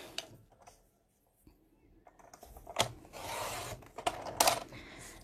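Paper being cut along a quarter-inch ruler mark: faint, close rustle and slicing scrapes with a few small taps, quiet throughout and without talk.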